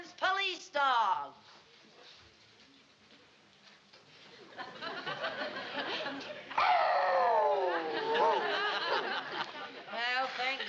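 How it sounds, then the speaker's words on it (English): A police dog howls in a long, wavering series, loud and close, with laughter and chatter from a crowd of people around it. "And now for the grand finale, the Hamilton's police dog."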